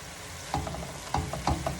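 Swiss chard cooks down in a pan with a soft steady sizzle, punctuated by a few light clicks and taps of a utensil, close and quiet with no talking.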